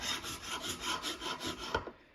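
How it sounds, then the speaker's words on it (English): A scraper drags rhythmically along wooden table edges to remove dried glue, about eight quick rasping strokes in a row, close and fairly quiet, ending with a sharper knock. "Here I'm scraping off the glue from the edges of the wood"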